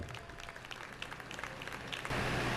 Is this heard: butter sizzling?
no